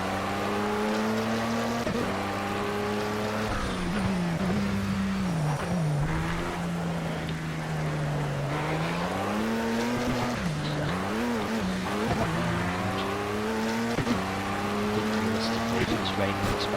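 Race cars roar through a wet, rain-soaked race in the video game Project Cars, engines droning and rising and falling in pitch with shifting revs, with someone talking over the steady racing noise.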